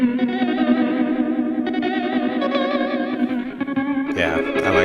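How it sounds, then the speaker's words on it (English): OBNE Visitor modulation pedal on a noisescape sound-design setting, a loud warbling, distorted tone with wavering pitch, ending in a sudden swirl of bright, sweeping noise. "This is a very cool setting for just, you know, sound design or cool noisescapes."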